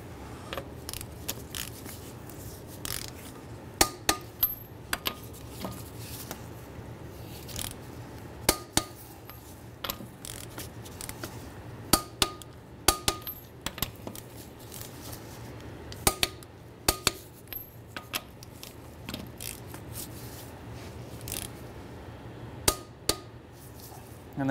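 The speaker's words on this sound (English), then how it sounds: "we're going to torque our lug nuts down to 80 foot-pounds" Torque wrench tightening the lug nuts on a Honda Element wheel to 80 foot-pounds in a crisscross pattern, heard as a string of sharp metallic clicks and clacks spread across the span over a steady low hum.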